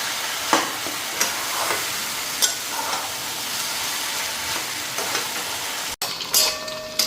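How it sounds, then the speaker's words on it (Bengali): An egg fries in a hot pan with a loud, steady close sizzle throughout, broken by occasional light clicks and scrapes of a utensil against the pan. "এদিকে ডিমটাও ভেজে নিলাম"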